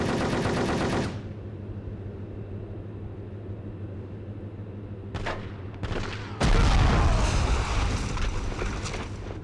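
A P90 submachine gun fires in rapid bursts in the shooter Cold Winter, with dense automatic gunfire at the start, a quieter gap with a few short volleys, then loud sustained firing to the end.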